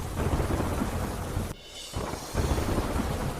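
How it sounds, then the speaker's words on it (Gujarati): Heavy monsoon rain pours with thunder in Gwalior, Madhya Pradesh: a dense, continuous roar of downpour, briefly cut off near the middle before resuming at full strength, with no voices. "અનેક વિસ્તારોમાં ગાજવીજ સાથે પડ્યો ધોધમાર વરસાદ"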